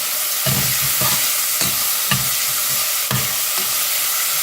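Spices frying in hot oil for a foxtail millet kichadi: a steady close sizzle broken by soft, regular scraping stirs about every half second, with no voices.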